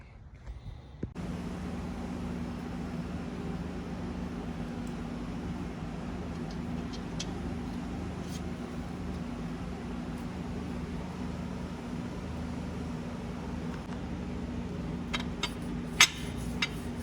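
A steady, close hiss of aerosol brake cleaner being sprayed onto the clutch assembly of a 2009 BMW 335xi, starting abruptly and running continuously for about fifteen seconds, with a few light clicks near the end.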